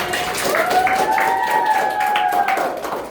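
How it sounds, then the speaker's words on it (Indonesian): Students clap together in a classroom during a maths microteaching lesson, scattered hand claps over a brief stretch, with a sustained voice or tone sounding alongside. "tepuk tangan untuk kita semua ini"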